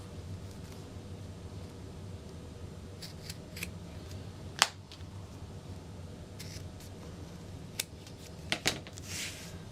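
Scissors snip through fabric edges while a bag is trimmed before sewing, giving a few sharp, close cuts spread over quiet room noise, with a small cluster of snips near the end.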